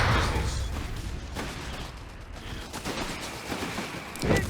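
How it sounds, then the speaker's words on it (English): Heavy mortar fire in a video game, a dense rumble of booms and blasts that rolls on without a break, with a sharper burst near the end. "Oh, the heavy mortar. It's doing heavy mortar stuff."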